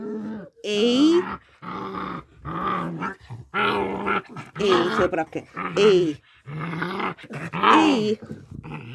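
Six-week-old puppies growl and yip in rough play, the snarls rising and falling in repeated close bursts over nine seconds while someone talks to them.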